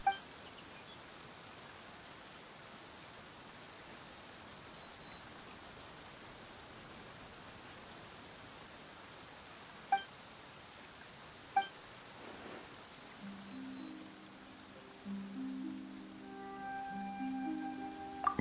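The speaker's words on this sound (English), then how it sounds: "Why is it raining all of a sudden?" Soft, steady rain hisses quietly throughout in Genshin Impact, with a few faint clicks, and gentle musical tones rise near the end.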